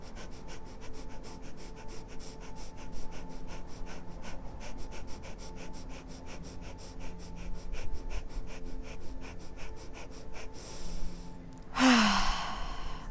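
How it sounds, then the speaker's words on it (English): Rapid rhythmic breath-of-fire exhalations during a guided meditation, a steady string of short forceful breath pulses running for about eleven seconds, ending with a deeper sigh-like exhale, close and fairly quiet. "let's do our breath of fire."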